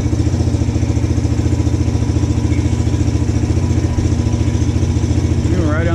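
A 2020 Vitacci Pentora 250 runs steadily nearby with a loud, even, throbbing engine drone throughout, and voices talk over it.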